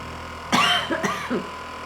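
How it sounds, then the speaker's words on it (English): Someone has a massage gun worked on the front of the neck and gives a few short, close coughs in quick succession, with the steady hum of the device beneath them. "The front of the neck tightness getting released can trigger a cough reflex."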